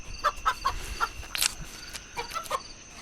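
Cartoon chicken clucking in quick, repeated squawks as a fox grabs it from a farm coop at night, with a sharper flurry of squawking in the middle before the clucks resume.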